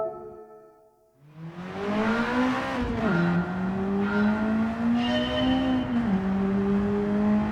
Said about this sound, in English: I'm just trying to see what all the different exhausts sound like